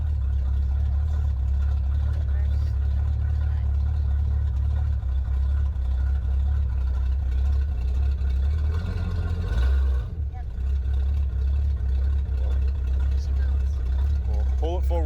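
The engine of a 1977 Chevrolet C20 truck runs at a steady, loud, low idle throughout, dipping briefly near the end as it is put in drive, while people talk over it.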